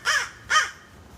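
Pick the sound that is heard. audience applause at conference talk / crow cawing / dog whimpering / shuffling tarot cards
crow cawing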